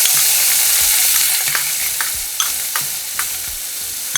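Onion for paneer bhurji fries in a pan with a loud, steady close sizzle, punctuated every half second or so by spatula scrapes as it is stirred. No one talks.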